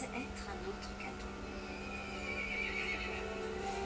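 An angry horse in Resident Evil 8 lets out whinnying cries over a steady droning background, fairly faint and distant.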